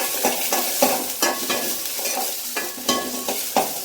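Ginger and garlic sautéing in a pan, a continuous close sizzle broken by regular scraping strokes of a spoon, about eight distinct stirs.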